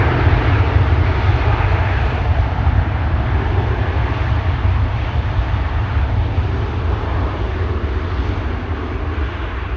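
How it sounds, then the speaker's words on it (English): At Schiphol, an Embraer 175 jet bound for Basel rumbles with a loud, low engine roar that starts strongest and slowly eases over about ten seconds, heard alone without voices. "This is an Embraer to Basel, Embraer 175."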